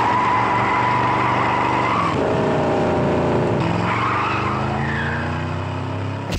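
A car driven hard in the 1971 film Harold and Maude, with loud continuous engine roar and long squealing tire skids that rise and fall in pitch, close and steady throughout.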